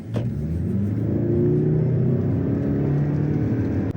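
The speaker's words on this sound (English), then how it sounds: "Listen to that 4-cylinder power up." A 2023 Lexus ES 300h F Sport hybrid's four-cylinder engine revs up in Sport mode while driving, a close rumbling drone whose pitch climbs steadily over a few seconds before easing slightly.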